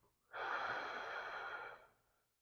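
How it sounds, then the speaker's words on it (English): A single long, soft breath during a seated yoga pose for low back discomfort, a close, gentle airy rush that swells, holds and fades out, heard alone. "I'm just going to sit here in the pose and breathe a little bit."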